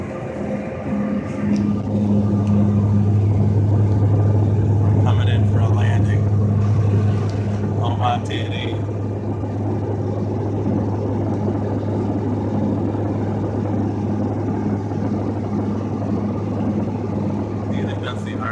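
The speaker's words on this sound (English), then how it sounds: "We're on a Bombardier plane." Steady engine drone and humming rumble of a Bombardier airplane cabin in flight on approach to Wichita, constant and enveloping, with people talking faintly over it.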